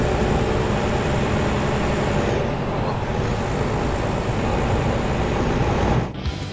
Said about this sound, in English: The M-Drive downshifted to 11th gear at 1050 RPM